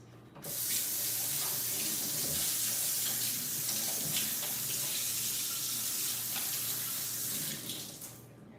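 Tap water pours steadily into a kitchen sink while hands are washed, a continuous close hiss and splash that starts abruptly, holds evenly for several seconds, then cuts off.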